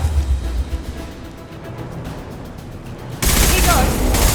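Loud, dense gunfire in the game Mass Effect 2 Legendary Edition, quieter ambience at first, then a sudden sustained burst of rapid automatic shots filling the last second or so.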